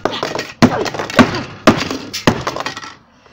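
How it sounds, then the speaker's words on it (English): A hammer smashes a smartphone in several heavy blows, each a sharp crack with a breaking, glassy crunch, spaced about half a second apart and close up, with scraping and rattling debris between strikes. "Gotta hammer it."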